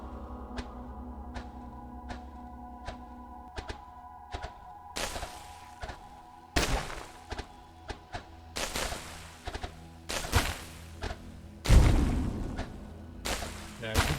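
A GemCraft tower fires at a chest in repeated thunks and booming impact bursts, some sharp and some heavier, over a steady looping musical hum.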